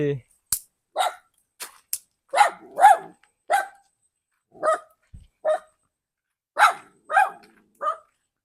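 A dog barks repeatedly in short, sharp bursts, fairly close and irregularly spaced, with brief quiet gaps between barks, in a forest.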